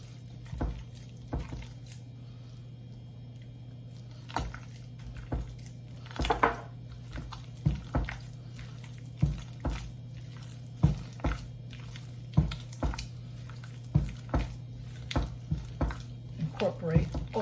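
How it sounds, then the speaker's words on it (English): Room-temperature butter is worked into sticky brioche dough, giving soft, wet squishes and slaps at a steady, repeating pace over a low constant hum. "Incorporate all your butter in there."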